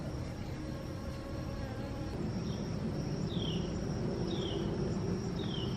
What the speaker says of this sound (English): Look at all them bumblebees. They just love these moonflowers.